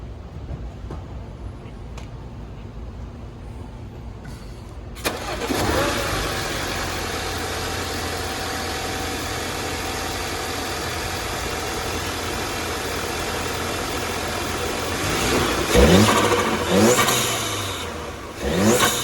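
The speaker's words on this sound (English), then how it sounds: "I'm gonna have my buddy start her up and give her some revs" An Audi A4 car engine fitted with a CTS turbo intake cranks and starts, then idles steadily before several rising revs near the end, loud and close with no talking.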